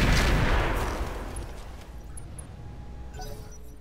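Weapons fire in the video game Roguetech, a BattleTech mod, opens with a loud close burst and impacts that die away into a long rumbling tail, followed by faint mechanical tones.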